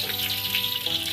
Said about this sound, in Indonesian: Pertama kita goreng cabenya dulu.